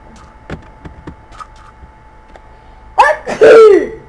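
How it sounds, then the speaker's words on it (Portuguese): A single sharp sneeze, set off by a feather, bursts out near the end, preceded by a quick intake of breath, loud and close after a stretch of faint soft noises. "essa pena aqui me fez espirrar"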